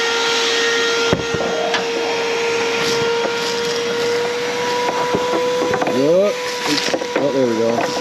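A vacuum cleaner drones steadily while sucking a critter nest out of a car's cabin air filter, with clunks and scraping knocks of the hose and a few brief squeaky sliding sounds near the end.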